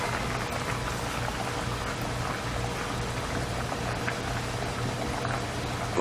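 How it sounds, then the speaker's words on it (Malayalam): Kingfish curry made with milk boils in a pot on the stove, giving a steady, close bubbling and simmering that carries on evenly without a break and with no talk over it. "ഇതേ കറി തിള വന്നു."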